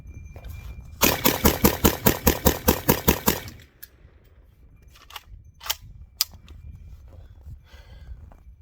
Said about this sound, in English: I'm just gonna mag dump this thing real quick here